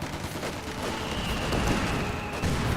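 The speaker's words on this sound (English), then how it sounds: "Jäger Light Infantry firing away" Jäger Light Infantry rifle fire in Company of Heroes 2: a dense, continuous crackle of overlapping shots in a battle din, loud and close, with no voices.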